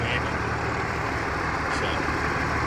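An Oliver 1850 tractor swapped with a Cummins diesel engine from an early-1990s Case Magnum idles nearby with a deep, steady rumble, while people talk over it.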